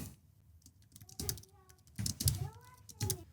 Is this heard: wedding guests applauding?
no